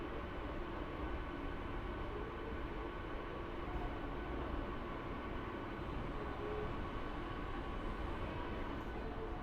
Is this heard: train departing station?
yes